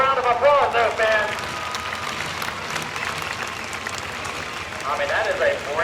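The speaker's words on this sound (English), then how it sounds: "Let's give her a good luck round of applause, though, fans." Crowd applause ringing out across the arena at a truck and tractor pull, a steady wash of clapping lasting several seconds, mixed with an announcer's voice talking over it.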